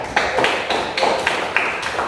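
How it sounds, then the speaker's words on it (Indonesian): A classroom of students claps in a short burst of rhythmic, fairly close applause with several distinct strong beats. "tepuk tangan semuanya"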